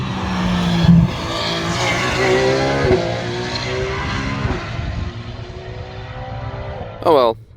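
Porsche 911 GT3 R race car on a track, its engine note rising and sweeping past loudly with a brief tire squeal, under ongoing talk, ending in a sharp rising whine as another pass begins.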